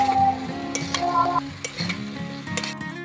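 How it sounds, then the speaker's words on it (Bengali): Gourd stirred into fried tomatoes in a pan: lively sizzling under repeated scraping and clinking strokes of a spatula, close and fairly loud. "এবার খুব ভালো করে সব কিছু নেড়ে নেব"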